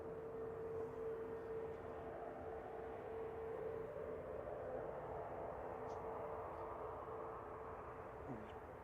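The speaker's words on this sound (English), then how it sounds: "a Jet 2 A321 operating out to Fuerteventura" Jet2 Airbus A321neo jet airliner, brand new, departing Manchester for Fuerteventura, giving a steady broad engine roar with a low hum that holds at even loudness throughout, heard at a distance outdoors with no talk.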